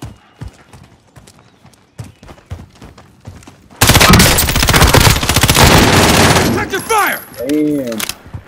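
Sustained automatic gunfire from the shooter game Call of Duty: Modern Warfare erupts loud and close, a rapid burst lasting about three seconds after scattered footsteps and light clicks, followed by someone speaking.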